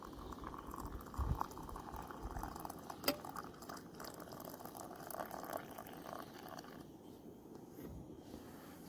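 Water at a rolling boil in a pot over an outdoor fire, a soft continuous bubbling hiss at close range with occasional small clinks, no talk.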